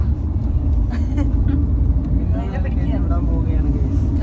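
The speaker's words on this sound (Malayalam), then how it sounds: "ഹൈദരാബാദിലേക്ക് പോണ ബസ്സാ" A bus headed for Hyderabad runs alongside on the Wayanad ghat road near Gundlupet, its steady low engine rumble and road roar filling the scene from close by while people talk over it.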